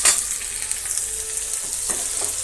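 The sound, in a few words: frying onion and ivy gourd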